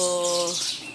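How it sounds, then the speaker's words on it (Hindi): Birds call in the morning: a short tonal, cooing note gives way to brief, high chirping, heard fairly loud and with no talking. "ये देखें चिड़िया कैसे चहचहा रही है"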